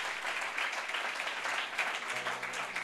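A church congregation at an ecclesiastical conference applauds to honor its leaders, a dense, continuous wash of clapping and cheering from a large crowd that holds steady throughout, with a low hum entering near the end.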